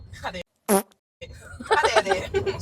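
A short, loud fart sounds close by, surrounded by brief speech and snickering.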